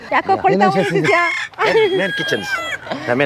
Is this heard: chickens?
yes